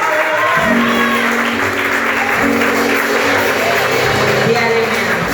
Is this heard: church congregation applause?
yes